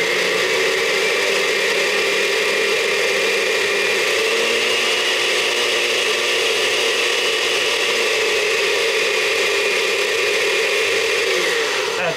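A blender whirs loudly and continuously as it dry-blends herbs for a frozen cocktail, a steady mechanical grinding roar that holds for about twelve seconds with no talking.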